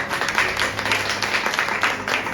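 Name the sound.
congregation clapping hands in church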